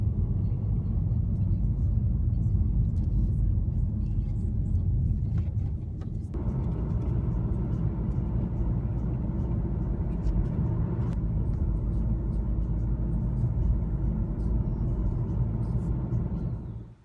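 A car drives along the road toward Adlington in Chorley, heard from inside as a steady low rumble of engine and tyres that dips briefly partway through and then carries on evenly.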